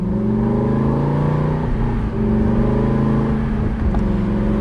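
A 2014 Aston Martin V8 Vantage with a manual gearbox pulls hard, its V8 engine rising in pitch as it accelerates, loud and steady from inside the cabin, with a brief dip near the middle.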